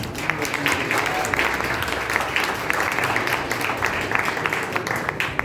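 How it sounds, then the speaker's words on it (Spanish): An audience at a book fair talk on Fernando Pessoa breaks into applause, a dense, steady patter of many hands clapping that carries on evenly throughout with no speech over it. "los recibimos con un aplauso"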